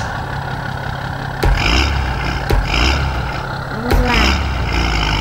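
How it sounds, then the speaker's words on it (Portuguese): A Mercedes truck engine in SnowRunner roars and revs up in repeated surges with air-brake hisses, loud and close, while someone talks over it. "Quero sentir o acelerador, o ronco."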